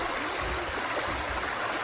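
The Mississippi River flows shallow and fast just below its headwaters, heard from a bridge inside a park as a steady, close rushing wash of water with no talk.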